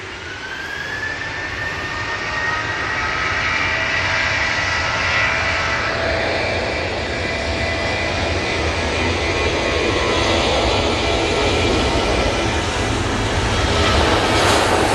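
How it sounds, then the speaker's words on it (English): A KLM airliner lands at Manchester Airport with a steady loud jet roar and a whining engine tone that slowly falls in pitch, the rumble holding on through the touchdown and rollout. "Nice touchdown there from the KLM."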